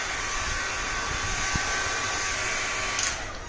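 A Panasonic hair styler blows air in a steady, loud whoosh that runs continuously and eases off slightly near the end, with no talking.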